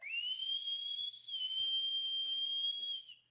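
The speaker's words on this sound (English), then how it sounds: "That's a very loud whistle." A long, loud, piercing mouth whistle holds a steady high pitch for about three seconds with a slight dip midway.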